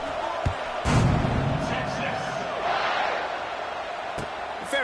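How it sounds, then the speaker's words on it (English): A stadium crowd in the NCAA Football 26 video game roars and buzzes steadily after a score, a dense wash of cheering under a commentator's voice, with a few sharp thumps. "this crowd is buzzing after that last score"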